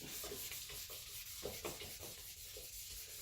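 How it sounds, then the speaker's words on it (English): Steady, close rubbing as sandpaper works over the painted surface of a Suzuki Intruder motorcycle part, with rhythmic strokes under a constant hiss and no talking. "Now the key here is do not sand through it."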